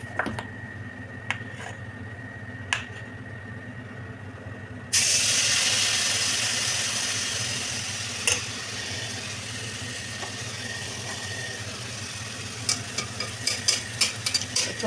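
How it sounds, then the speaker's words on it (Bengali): Mango chhana malpua batter fries in hot oil with a steady, close sizzle and hiss that swells louder partway through, punctuated by occasional sharp clinks and scrapes of a utensil. "আমি আরেকটা ভেজে দেখাচ্ছি।"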